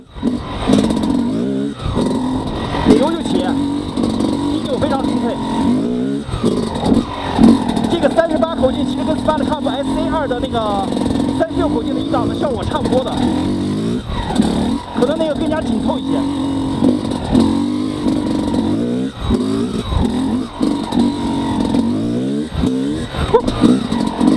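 Small XTNG GEN3+ 38 two-stroke motorized bicycle engine running in first gear on 92-octane ethanol-free fuel, a steady buzzing drone with shifting revs throughout, close up, while a voice talks over it.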